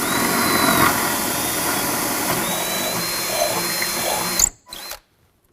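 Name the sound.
power drill drilling into ceiling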